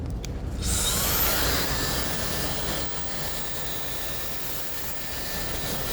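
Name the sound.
hair dryer blowing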